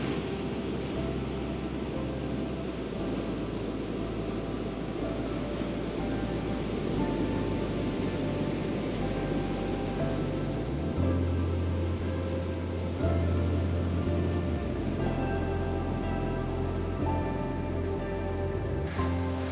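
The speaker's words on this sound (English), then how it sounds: "the sound of the crashing waves is immense." Waves crash steadily on the Northumberland coast, a broad, continuous roar of surf with swelling surges, loud and close, no voices heard.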